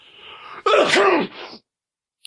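A single loud sneeze bursts out after a short intake of breath, close and clear, followed by silence.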